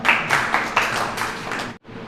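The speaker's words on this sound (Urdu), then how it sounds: "تالیوں سے استقبال۔" Audience applause welcoming a poet on stage at a mushaira, a brief burst of clapping from a crowd that stays steady, then drops out sharply near the end before a little more noise resumes.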